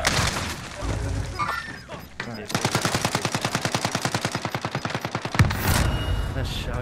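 Gunfire in Warzone Rebirth Island, with a rapid, evenly spaced string of automatic shots running for about three seconds, then a single loud blast near the end, loud and close amid game noise.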